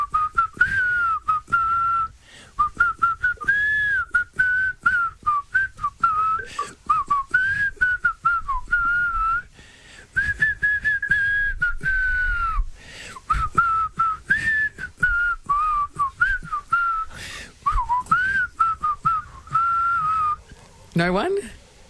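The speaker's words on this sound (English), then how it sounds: "so he can whistle to the lyrics." A person whistles a song in a comedy show setting, a clear melodic tune with phrases separated by short pauses, close and steady for about twenty seconds, ending with a brief burst of other noise.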